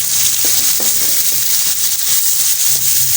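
Tomatoes and green chilies fry in spiced masala in a pan, a loud steady sizzle with small crackles and occasional stirring knocks, no talking.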